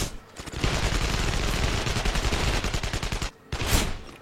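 Rapid automatic gunfire in the shooter video game Sniper Ghost Warrior 2, loud sustained bursts of closely spaced shots, a short pause, then another sharp burst, with no talking.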